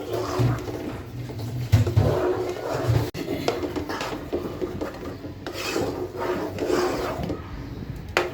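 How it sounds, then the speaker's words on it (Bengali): A spoon scrapes and rubs through thickening mango pulp in a pan, making continuous rasping strokes with one sharp knock near the middle, close and fairly loud. "এটা আমি নাড়তে থাকবো কারণ নিচে যাতে লেগে না যায়"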